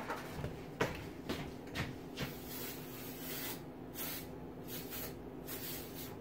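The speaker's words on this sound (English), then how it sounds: "I'm going to go over the garbage can and spray it." Non-stick cooking spray hisses faintly from an aerosol can in short bursts, with soft taps and rubbing sounds at the start and a quiet hiss continuing afterward.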